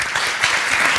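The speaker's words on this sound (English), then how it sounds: "let's give a round of applause to the members of the panel" A short, dense burst of applause from a conference audience for a discussion panel, loud and even throughout.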